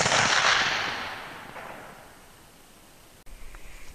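A single 45-70 rifle shot fired at a jug 150 yards away: a loud sharp blast up close that decays into a long, fading outdoor echo, followed by a faint rustle.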